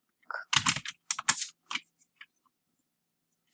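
Fingers type a command on a computer keyboard in quick bursts of close keystrokes, then a few sparse, isolated clicks trail off into silence.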